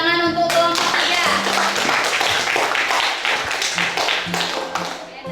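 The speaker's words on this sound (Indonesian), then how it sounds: "beri tepuk tangan untuk kelompok 3" Students in a school classroom clap their hands for a group that has just presented during a drama lesson. The clapping is loud and dense and runs steadily throughout, with a few voices mixed in.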